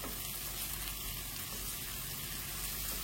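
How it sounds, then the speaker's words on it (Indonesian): Chili sautéing with shallots and garlic in a hot pan, a steady close sizzle and crackle of frying that stays even and loud throughout, with no voices. "Ditumis sampai matang cabenya"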